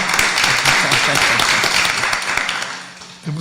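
Sustained applause from a crowd at a labour committee hearing, dense clapping filling the space for several seconds, fading slightly before a voice cuts in at the end.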